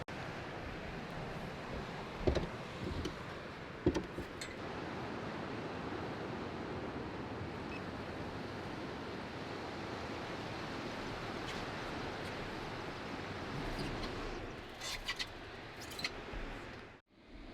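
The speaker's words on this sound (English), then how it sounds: "Maybe some baby little point break waves." Small point-break ocean waves wash steadily in a continuous broadband surf roar, with a couple of brief louder splashes early on and the sound cutting out abruptly at the end.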